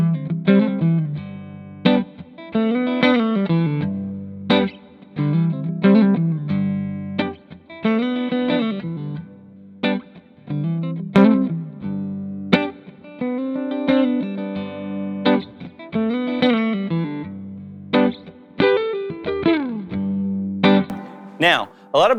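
Electric guitar played through a Devilcat Jimmy amplifier, with riffs and chords ringing out in separate phrases and short gaps between them, the tone driven and slightly distorted, with reverb tails. The guitar plays alone, with no talking.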